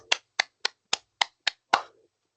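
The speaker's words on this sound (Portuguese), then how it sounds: "Uma salva de palmas." Seven sharp, evenly spaced hand claps ring out alone at a formal dialogue event, quick and moderately loud, ending in a brief pause rather than a crowd's sustained applause.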